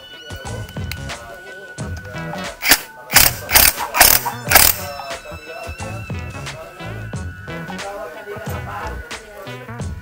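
An OKS impact wrench tightening, giving a loud run of rapid hammering bursts clustered in the middle, with mechanical clatter before and after.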